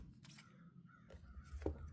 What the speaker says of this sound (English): Good golly, can you hear the crows out there?